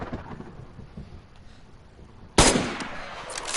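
A single loud gunshot from a rifle in the DayZ video game, cracking suddenly after several seconds of steady rain and ambient noise, followed by a decaying rumble.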